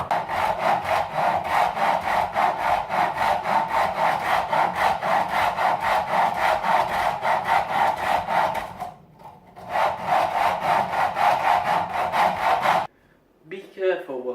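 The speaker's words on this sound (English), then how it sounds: "Be careful while grating the bread." Dry bread is grated into breadcrumbs by hand, giving a steady, rhythmic rasping scrape of close, even strokes that pauses briefly, resumes, then stops, with a few faint handling sounds at the end.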